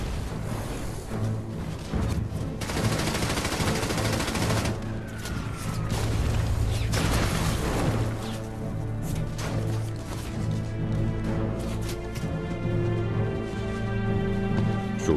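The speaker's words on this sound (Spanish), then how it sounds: "Los hombres dispararon y lanzaron granadas mientras corrían." Battle soundscape of infantry firing guns and throwing grenades while running under fire, with dense, continuous loud bursts of gunfire and booms over a rumbling din, no talk.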